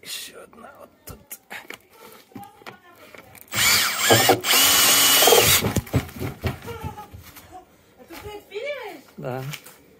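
A power drill bores holes in the floats of a Scarab 650 trimaran in one loud burst of about two seconds, with brief tool noise around it. People chat close by before and after.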